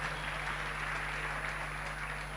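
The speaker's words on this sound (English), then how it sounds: "Give Jesus a clap offering." A church congregation at a ministry live service claps together as an offering, a dense, steady wash of applause that holds evenly for a couple of seconds.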